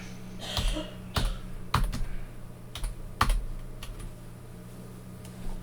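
Keys clack on a computer keyboard while a signature name is typed into photo-editing software, a few sharp, close keystrokes spaced irregularly over a low steady hum, with no talking.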